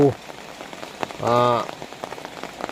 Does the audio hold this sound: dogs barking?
no